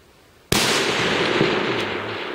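A single long-distance rifle shot fires outdoors at a range. One sharp, loud crack is followed by a long rolling echo that slowly fades, with no voices over it.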